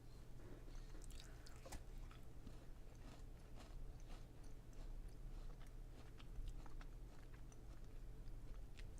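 Close, quiet crunching as someone bites and chews a Lismore Food Company hazelnut, cinnamon and raisin fine biscuit, with a steady run of small dry crackles and crunches and no talking.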